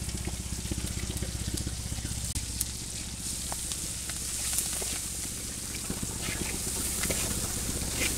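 Chopped onion, garlic and chili frying together in a pan, producing a dense, continuous crackling sizzle that stays fairly loud and close for the whole stretch, with no voice heard.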